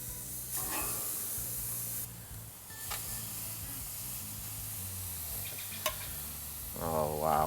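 Marinated chicken pieces sizzle on a grill, giving a soft, steady hiss and crackle at moderate volume with a few faint clicks and scrapes, and no talk.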